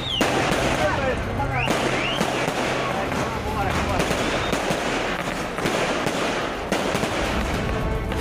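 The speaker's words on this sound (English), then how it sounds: "Fireworks in pockets of Srinagar after Pakistan cricket team's victory over India in Dubai." Fireworks and firecrackers going off in pockets of Srinagar after a Pakistan cricket win over India, a dense continuous crackle of rapid bangs and pops with sharp louder bursts, loud and sustained throughout amid background crowd noise.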